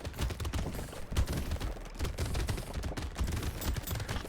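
Dense rapid-fire shooting of projectiles in the Brotato video game on a Danger 5 run, a relentless overlapping clatter of gunfire-like effects that stays loud and busy throughout.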